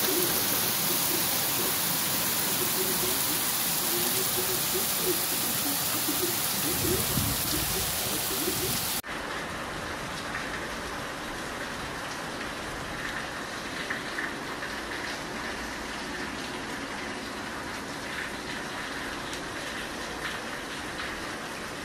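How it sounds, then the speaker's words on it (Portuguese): Steady rain falls over the city of Patos, Paraíba, a dense, even hiss of drops on surfaces that drops slightly in loudness partway through and carries on alone with no voices. "Chuvinha caindo aqui na cidade de Patos"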